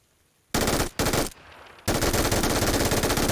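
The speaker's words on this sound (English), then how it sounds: "You go and shoot him" Loud sustained automatic gunfire from the PUBG video game, played on Xbox Series X, with two short bursts followed by a long continuous stream of rapid shots and no talking.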